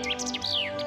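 Birds in a Central European forest, a few quick bright chirps and a sweeping descending whistle in under a second, clear and near against a faint steady background tone.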